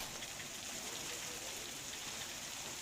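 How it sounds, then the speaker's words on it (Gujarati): Steady monsoon rain falls continuously in Deodar, Banaskantha, Gujarat, a soft, even patter with no voices, fairly quiet and uniform throughout. "દિયોદરના મોટાભાગના ગામોમાં વરસાદ પડ્યો છે"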